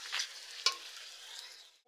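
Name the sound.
papad frying in hot oil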